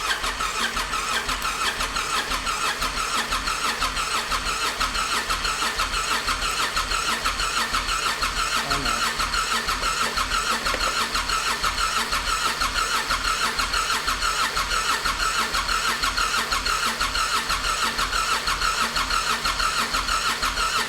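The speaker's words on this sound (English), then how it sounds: "what you heard was it continue to crank and crank and crank" A big Honda V-twin engine with a sticking starter solenoid cranks on and on without catching, a loud, even, rapid chugging of the starter turning it over continuously for about twenty seconds with no voices.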